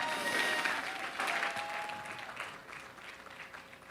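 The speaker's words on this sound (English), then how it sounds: "Give him a big round of applause" Audience applause at a 50th anniversary celebration event, a broad sustained clapping that starts loud and gradually tapers off over a few seconds, with no talking over it.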